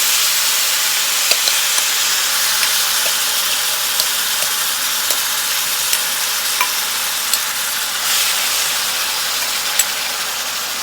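Peach mixture hitting melted butter in a skillet for a bourbon peach cobbler gives a steady, close frying hiss. It holds for the whole stretch with a few small clicks and stirring scrapes and no talking.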